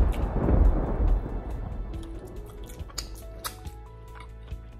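A cooked beef brisket is slapped hard, giving a heavy, booming, wet smack up front that fades into scattered small drips and squishes.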